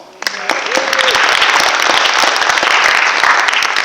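Audience applause breaks out at a leadership council breakfast, a sudden burst of many hands clapping that builds quickly and holds steady and loud, with scattered sharp claps standing out from the dense wash.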